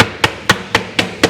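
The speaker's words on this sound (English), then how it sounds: "give it a couple taps with a hammer." A hammer gives five evenly spaced, sharp taps to an aluminum track while a display showcase is assembled, loud and close with no voices.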